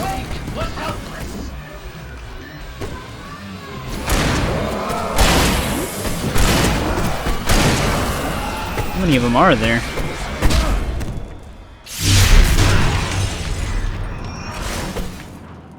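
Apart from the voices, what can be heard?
fireworks exploding in the video game Alan Wake Remastered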